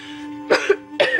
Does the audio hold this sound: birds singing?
no